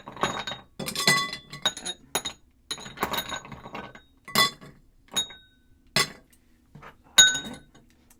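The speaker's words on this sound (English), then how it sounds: "We'll get our ice in our mixing glass." Ice goes into a cocktail mixing glass with bright clinks and rattles, cubes knocking against glass in irregular bursts and separate clinks, close and distinct with no talk.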